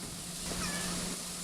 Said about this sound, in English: We got the cat coming around looking for food